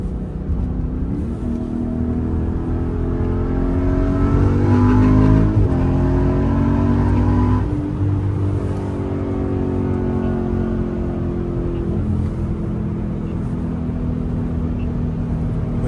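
A Jeep SRT engine roars close and loud as it accelerates on the Autobahn at night. The revs climb through rising gear pulls, then drop and build again in a sustained drone.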